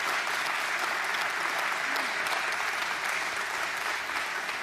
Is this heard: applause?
yes